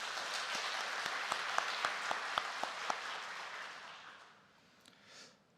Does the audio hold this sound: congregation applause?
yes